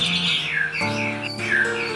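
An orange-headed thrush (anis merah) in moult gives harsh squawking calls, close and fairly loud, a few rough notes in quick succession with no talk over them.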